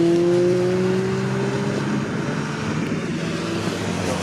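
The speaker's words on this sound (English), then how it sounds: "Cars, I think, coming through." Race cars passing on the Snetterton circuit during a club race, a loud engine tone sweeping past then fading into a broad rushing roar of further cars in the distance.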